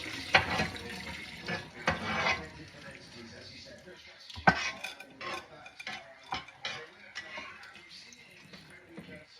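Water is drained from a cooking pot while preparing Ecuadorean roasted pork hornado, with splashing, pouring and clattering pot and utensil knocks in uneven bursts close by, and people talking at times.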